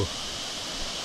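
Lodh Waterfall on the Burha river inside a reserve forest, its water pouring in a steady, broad hiss of moderate loudness that runs unbroken without voices.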